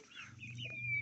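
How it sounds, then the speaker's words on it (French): High thin peeping from young chicks, a few calls rising over a low steady rumble, close by with no talking. "Les poussins, ils sont là. Les petits poussinous."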